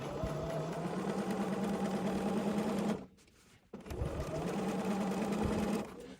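A domestic sewing machine stitches up a corner of fabric with a steady, close, whirring run. It stops briefly partway through, then resumes stitching.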